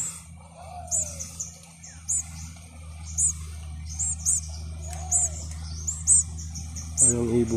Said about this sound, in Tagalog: Siyap na sila